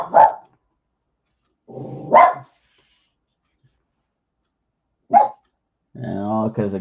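Dogs barking at a window in separate bursts: a sharp bark, a longer bark, another short bark, then a sustained growling woof near the end, close and loud with silence between.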